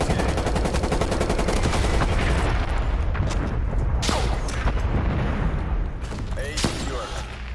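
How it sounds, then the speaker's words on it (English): Incoming artillery fire with heavy explosions in a combat scene, dense rumbling blasts and gunfire roaring continuously, with a few sharper impacts cutting through and radio-style voices underneath. "Incoming artillery."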